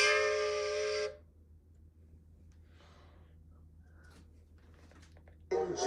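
A steam engine whistle in Thomas the Tank Engine, heard as two brief, bright whistle blasts at the start and end of the clip, separated by a quiet gap with faint breathy noise.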